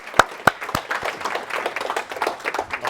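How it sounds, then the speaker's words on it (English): An audience at a Startup Grind London event on women in AI applauds, with a few sharp individual claps at the start that turn into steady, moderately loud clapping from a crowd. "So let's give them a round of applause as I bring it up."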